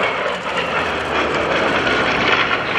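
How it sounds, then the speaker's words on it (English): A World War II-era propeller warplane roars overhead at an airshow, a loud, broad engine rumble with a whistling edge that swells slightly as it passes. "The airplane that just flew by that says U.S. Navy"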